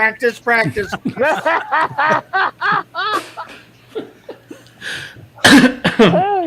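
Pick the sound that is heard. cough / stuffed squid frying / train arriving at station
cough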